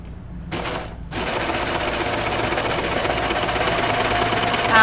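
A sewing machine doing a chain stitch on knit fabric runs loud and continuous after a short start-stop, with an odd rough, knocking clatter in its steady drone.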